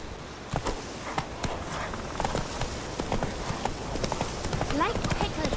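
Hoofbeats of a horse running in The Witcher 3 video game, a steady clip-clop rhythm mixed with game sounds and music, with a voice speaking over it.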